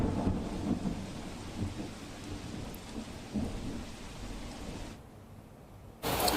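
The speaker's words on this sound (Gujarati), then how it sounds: "સુરતના વેસુ, અલથાણ, પીપલોદ સહિતના વિસ્તારોમાં ધોધમાર વરસાદ જોવા મળી રહ્યો છે" Heavy downpour over Surat, a dense steady roar of rain on surfaces with low thunder rumbles underneath, dropping quieter near the end before the rain noise surges back abruptly.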